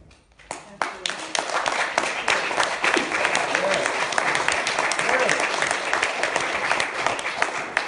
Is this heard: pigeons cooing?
no